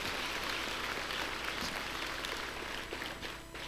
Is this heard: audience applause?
yes